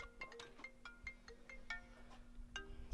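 A mobile phone ringtone plays a quick, bright, chiming melody of short tonal notes, faint but clear over a low steady hum, with no voices.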